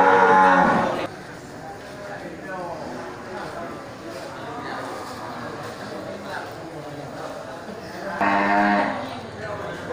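Feeder cattle for fattening low loudly in a holding pen, one long moo at the start and another near the end, with murmured talk and pen noise in between.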